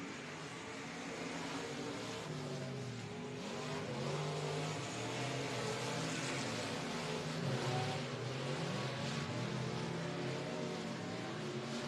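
Limited modified race cars roar around the Boothill Speedway dirt oval during a Saturday night feature. Several engines layer into a dense, continuous drone that swells and fades a little as the pack moves.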